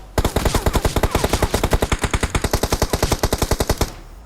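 Rapid automatic gunfire from enemies in the BGMI (PUBG Mobile) video game, a loud, steady burst of about thirty evenly spaced shots lasting nearly four seconds, with no talking.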